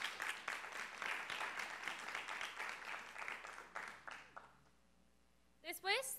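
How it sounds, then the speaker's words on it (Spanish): A crowd applauds at a panel event in Jalisco, Mexico, with steady clapping that gradually fades out, followed by a brief high, chirpy sound at the end. "Un aplauso."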